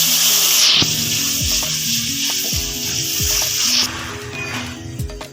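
Onion, tomato and ginger-garlic fry in oil in a kadhai with a steady bright sizzling hiss that fades partway through, set against tonal background music.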